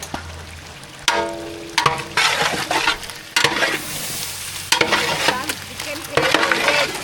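Chicken biryani is stirred in a pot in repeated scraping, sizzling strokes separated by brief pauses, loud and close.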